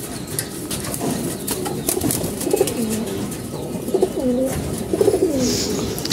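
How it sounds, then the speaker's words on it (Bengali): Pigeons coo repeatedly from a small backyard flock, with several rolling calls at moderate distance over steady background noise and a brief flutter of wings. "আর এখানে আছে কবুতর।"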